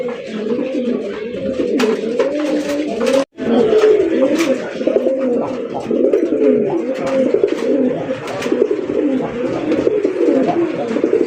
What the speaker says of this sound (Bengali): এত সুন্দর ডাকে কবুতরটা, ভয়েস ভলিউমটা খুবই সুন্দর।